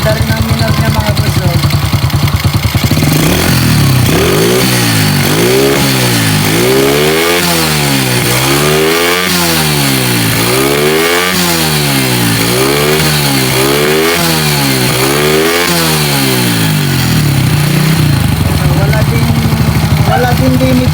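An XRM 110 motorcycle with fullwave wiring and no battery idles close by, a loud, steady engine note that swells and dips in a slow, regular rhythm, with a voice talking over it.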